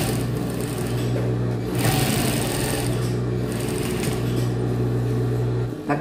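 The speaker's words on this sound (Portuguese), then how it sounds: "vamos costurar" Sewing machine stitching in a replacement zipper on a pair of jeans, a continuous close mechanical hum and rapid needle clatter with brief changes in pace, running steadily throughout.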